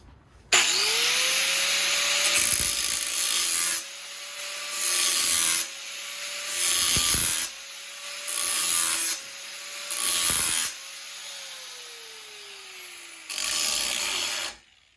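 A bench grinder sharpens a lawn mower blade with a steady whine and several long grinding strokes, each starting and stopping abruptly in a regular series.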